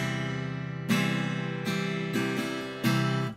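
Guitar strings plucked with the fingernails ring out brighter and crisper, with a sustained chord followed by several evenly paced strikes, close and moderately quiet with no talking.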